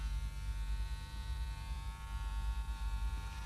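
Electric hair clipper buzzing steadily through a home haircut, a close, continuous hum with no talk over it.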